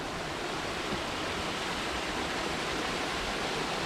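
Small waterfall along a forest hiking trail in White Oak Canyon, a steady, even hiss of falling water that stays constant and close throughout without voices.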